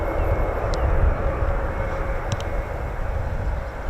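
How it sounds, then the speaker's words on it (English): An Airbus A400 military transport aircraft passes at RAF Brize Norton, heard as a steady, loud, broad engine roar throughout. "looks like we're going to start the day with an A400."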